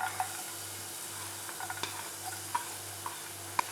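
Garlic frying in hot oil as tempering for egg 65, a steady soft sizzle with a few light stirring clicks and a sharp utensil tap near the end, close and fairly quiet.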